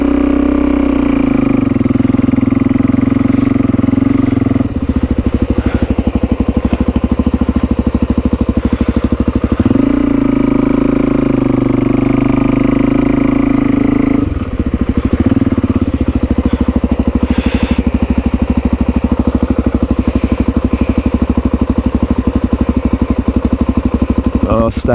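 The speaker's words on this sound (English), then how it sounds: "His bike started the first time and then it just died again." KTM motorcycle with water in the engine and carburettor, sputtering and surging on a muddy Blue Mountains trail, its loud uneven drone rising and falling over about twenty-five seconds while voices talk over it.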